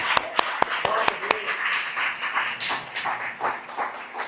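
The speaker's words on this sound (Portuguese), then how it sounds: "Amém, aplauda o Senhor." A church congregation at a doctrine worship service breaks into a few sharp, separate claps near the start, then the sound settles into a steady wash of room noise and murmuring voices.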